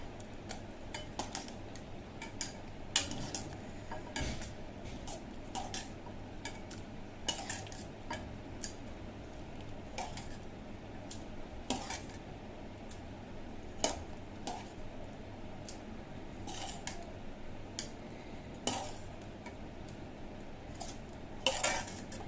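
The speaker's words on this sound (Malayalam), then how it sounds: "ഞാനിതൊരു സെർവിങ് ബൗളിലോട്ട് മാറ്റുകയാണ്." Black chickpea curry being transferred into a serving bowl, a long series of soft, irregular spoon taps and scrapes against the pot and bowl, quiet and close, no speech.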